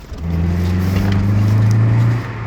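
A Rover ZR 120 car on a short test drive after brake trouble, its engine giving a steady low hum that rises for a couple of seconds and then eases, close inside the cabin, with no talking.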